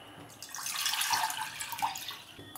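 Tap water running and splashing into a cooking pan on a gas stove, about five cups for boiling pasta, a steady close hiss and splatter lasting a few seconds with no talk.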